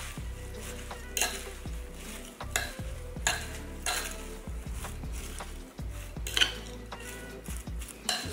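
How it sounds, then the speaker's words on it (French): Chicken Caesar salad tossed and mixed in a bowl, with repeated scraping and clinking of utensils against the dish in irregular bursts, close and fairly loud, no talking. "Et là, on va mélanger ça."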